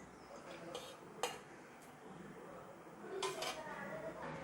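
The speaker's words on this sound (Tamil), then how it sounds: "அடுப்பில் கடாயை வச்சு கொஞ்சமாக எண்ணெய் சேர்த்துக்கிறேன்." A metal kadai is set on a home stove and a little oil is added for an onion-free curry-leaf chutney, a quiet room with a few faint metallic clinks and knocks and a soft rustle of cookware.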